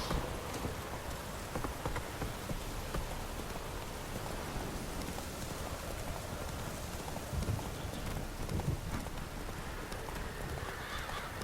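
Roach the horse gallops in The Witcher 3 during a heavy storm, with steady rhythmic hoofbeats and occasional whinnies under constant pouring rain.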